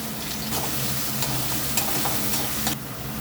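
Chopped onion, garlic and ginger fry in a pan for chilli chicken, making a continuous close sizzle broken by a few stirring scrapes, with no talking.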